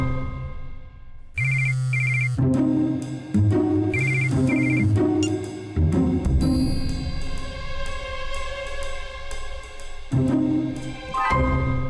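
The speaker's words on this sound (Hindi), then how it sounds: "ये फोन बजते ही बार बार तू साइलेंट क्यों कर देती है?" A phone ringtone plays, with a repeating electronic ringing melody over a musical backing, steady and fairly loud throughout.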